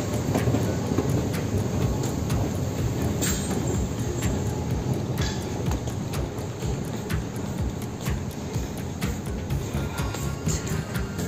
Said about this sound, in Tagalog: Sakay ako ng tren.